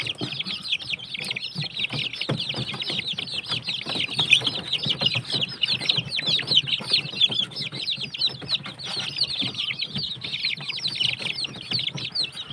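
Continuous chorus of high-pitched peeping and clucking from many chicks while feeding on madre de agua, close by, with scattered rustling underneath and no talking.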